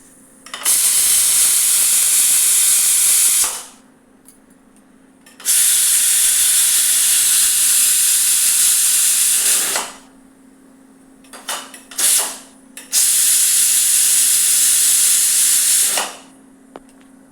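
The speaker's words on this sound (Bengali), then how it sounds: "এবারে কুকারে ঠিক একটা সিটি দেওয়াবো আর সাথে সাথে কুকারের গ্যাসটা খুলে দেবো" A pressure cooker on a gas stove vents steam in three long, loud, close hissing bursts of several seconds each, with a low steady tone and quieter gaps between them.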